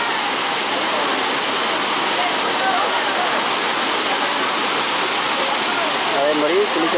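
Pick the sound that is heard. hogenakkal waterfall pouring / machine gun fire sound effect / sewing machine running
hogenakkal waterfall pouring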